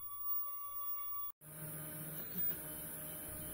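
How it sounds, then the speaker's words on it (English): A 3D printer busy printing a part gives off a quiet whirring and tonal motor hum that drops out briefly, then resumes as a faint, steady mechanical buzz with small shifts. "So as you can see, the printer is busy printing a part."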